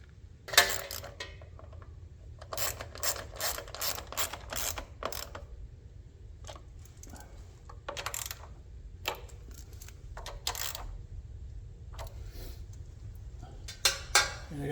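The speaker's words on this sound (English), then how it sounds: "Let's go ahead and put these 2 bolts on first, because then that'll hold it all in place." A hand ratchet tightens bolts on a Champion 27 ton log splitter, sending repeated bursts of close metallic clicking in short runs separated by pauses, over a low steady hum, with no talking.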